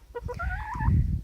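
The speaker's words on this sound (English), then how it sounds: "You need a chicken that will hang out with you, like Rocky right here." A pet chicken clucking close by, a few short clucks rising into a longer drawn-out call, with low rustling and handling noise underneath.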